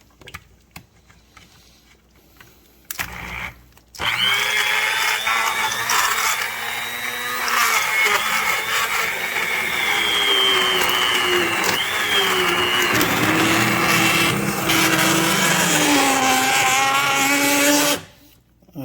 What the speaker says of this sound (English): But for those of you that don't want all of this is a stick blender.